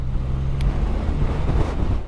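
Steady wind buffets an outdoor microphone in wet, windy Yorkshire weather, a loud continuous low rumble and roar that never lets up, with no voices.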